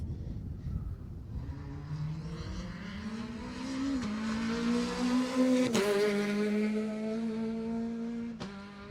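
Peugeot 205 rally car at the Jersey Rally sweeping past at speed, engine note rising and swelling as it approaches, loud and close with a sharp gear change midway, no voices.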